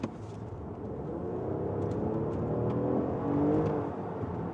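A 2025 Lexus ES350 Black Line Special Edition with a naturally aspirated 3.5-liter V6 accelerates, a smooth, rising engine hum heard from inside the car that swells slightly before easing back.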